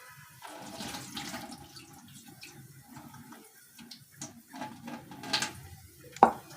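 Water drains off rice soaked for fifteen minutes as a home cook prepares it for cooking: steady splashing and trickling with occasional clinks of a pot or bowl, ending in a sharper knock, and no speech.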